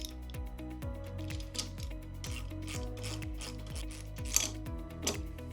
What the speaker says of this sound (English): To do it, we need to undo this bolt right here.